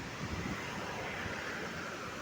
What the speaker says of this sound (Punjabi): ਦਰਿਆ ਸਾਹਾਂ ਸਾਹ ਕਰਦਾ